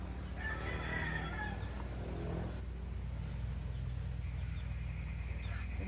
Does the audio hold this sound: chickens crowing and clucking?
yes